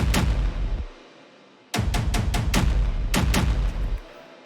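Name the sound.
synth rhythmic hit in track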